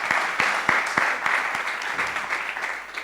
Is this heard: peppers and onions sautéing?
no